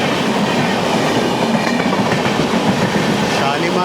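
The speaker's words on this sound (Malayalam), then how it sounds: "ജ്ഞാനേശ്വരി എക്സ്പ്രസ് ആണ്." The Jnaneshwari Express, from Shalimar to Lokmanya Tilak Terminus, rumbles along the rails with a loud, continuous roar and clatter, heard up close from a sleeper class coach.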